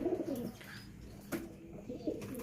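Pigeons cooing at a bird market in Lahore, soft low rolling coos repeated close by over faint background murmur.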